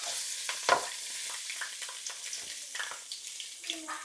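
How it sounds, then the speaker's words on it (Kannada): Cumin, onion, green chili and curry leaves fry in oil in a pan, giving a steady close sizzle with scattered stirring clinks and scrapes throughout and no talking. "ಈರುಳ್ಳಿ ಸ್ವಲ್ಪ ಫ್ರೈ ಆಗಲಿ."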